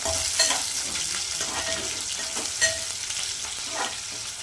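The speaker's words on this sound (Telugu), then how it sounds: "ఒకసారి మొత్తం తిప్పేస్తున్నాం." Curry leaves sizzle and crackle steadily in hot oil in a pan while being stirred, with a few sharper spatters and scraping sounds over the continuous frying hiss, close by and with no talking.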